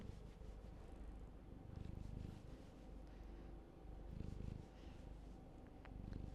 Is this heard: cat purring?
yes